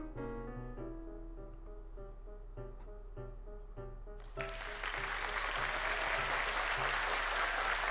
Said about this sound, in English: a round of applause comes up from the audience